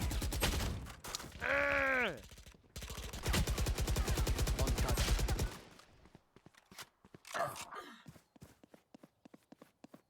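Pistol fired in an online video game, a few sharp repeated shots mixed with dense game sound effects, including a rising bleat-like synthetic tone and rapid clicks, fading to sparse ticks.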